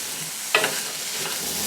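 Onions fry in a pan with a sprinkle of salt, chillies and curry leaves, giving a dense, steady close sizzle with one brief clink of a spoon near the start.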